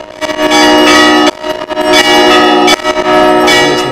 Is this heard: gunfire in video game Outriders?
no